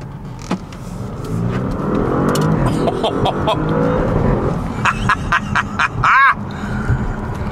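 An Audi RS7 engine revs and accelerates nearby, pitch climbing and dropping with quick gear shifts, followed by brief bursts and clicks near the end.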